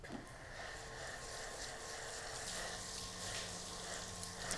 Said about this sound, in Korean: 물 한번 뿌려 볼게요.